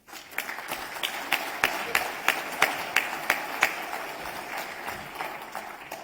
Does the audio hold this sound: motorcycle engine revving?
no